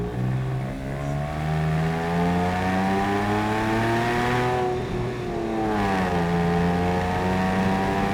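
A Porsche 911 997.1 Carrera 4S Tiptronic, four-wheel drive, pulling hard in third gear toward 4,000 RPM: a loud, continuous rising engine drone with rich layered harmonics from inside the cabin, dipping briefly before climbing again.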